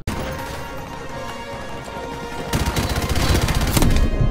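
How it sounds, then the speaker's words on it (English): Gunfire in Call of Duty Modern Warfare Remastered, a rumbling battle that breaks into a loud, rapid burst of automatic rifle shots and heavy reports in the second half. "I'm shooting at you"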